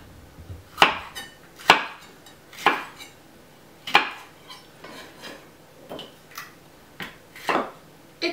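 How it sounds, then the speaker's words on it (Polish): Knife chopping bell pepper on a cutting board, sharp close thuds in a loose, roughly one-per-second rhythm with quiet pauses between cuts, no talking. "teraz kroimy paprykę"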